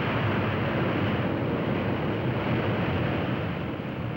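Propeller engines on a 1953 airliner roar as the pitch reverses to brake after touchdown. The roar is loud, steady and broadband, lasts the whole stretch and has no talk over it.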